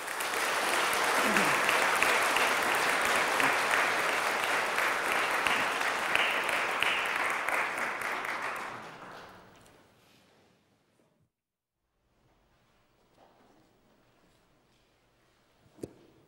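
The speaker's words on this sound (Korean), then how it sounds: "교우 여러분들 축하와 환영의 박수 부탁드리겠습니다." A church congregation applauds in celebration and welcome after a baptism and confirmation at an Easter Sunday service, a dense, steady wash of clapping lasting about nine seconds before fading into a quiet room with faint rustles.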